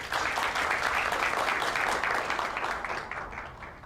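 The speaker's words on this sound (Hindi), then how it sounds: "तो आप सब लोग अपनी भरपूर तालियों में इनका इस्तकबाल करें" A conference audience gives a guest warm applause of welcome as she is called to the stage. The clapping is thick and continuous throughout and eases off slightly toward the end.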